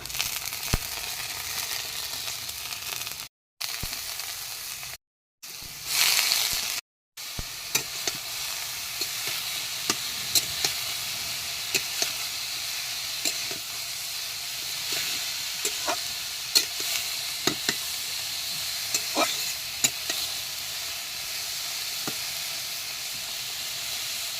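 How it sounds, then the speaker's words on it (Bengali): Sliced ridge gourd sizzles steadily in a hot pan, a continuous bright hiss with faint clinks of stirring, briefly cut by a few short gaps, no talking. "ঝিঙ্গে ভাজা করবো"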